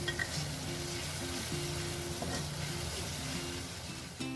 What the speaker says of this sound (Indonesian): Kita tumis kembali sampai tomatnya dan dan bumbu yang lainnya benar-benar matang